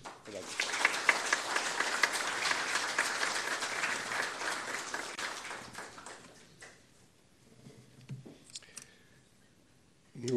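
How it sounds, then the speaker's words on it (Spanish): A lecture audience at a Peruvian democracy chair event gives a warm welcoming ovation for the speaker, loud continuous clapping that fades away after about six seconds, followed by scattered claps and a few quiet clicks. "si todos nosotros le brindamos un fuerte y cálido aplauso para recibir al expositor Manuel Alcántara Sáez."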